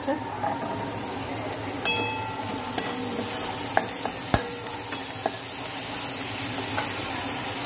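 Fresh coriander tossed into a hot, sizzling pan and stirred, with a steady crackling fry and scattered clinks of a utensil against the pan.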